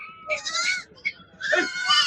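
Goats bleat repeatedly at a Saturday goat market in Ettayapuram, Thoothukudi, the loud wavering cries overlapping close by over a low murmur of background crowd noise.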